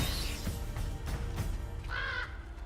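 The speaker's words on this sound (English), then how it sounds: "Oh, the crows are definitely from Odin." Crows cawing in the video game God of War Ragnarök, faint, distant caws set against a steady wash of ambient game sound, with no talking.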